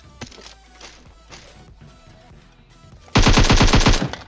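Video game gunfire: a few scattered single shots and clicks, then a loud rapid burst of automatic fire near the end.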